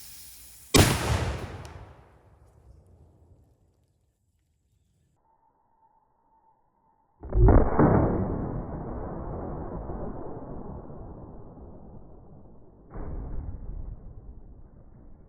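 Shotgun firing an oversized Foster slug outdoors: a sharp loud blast with a long decaying echo, a quiet electronic beep, then a second blast with rolling reverberation and a fainter third report.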